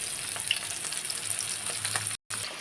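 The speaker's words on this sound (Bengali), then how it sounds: "এখন আমি ভালো করে ডুবো তেলে ভেজে নিচ্ছি" Pieces of rohu fish deep-fry in hot oil, giving a steady close crackle and sizzle with scattered pops, briefly cut by a moment of silence near the end.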